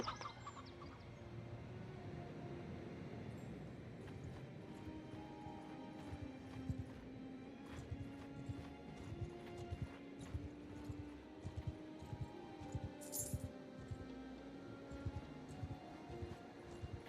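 Horses gallop in the video game Mount & Blade II: Bannerlord with the Old Realms mod, a fairly faint, steady patter of hooves with an occasional whinny and scattered clatter in the background.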